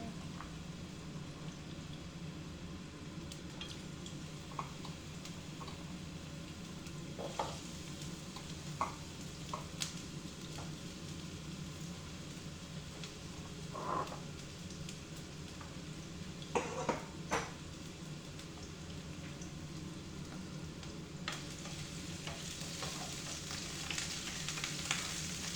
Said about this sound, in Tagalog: Stir fry na natin siya.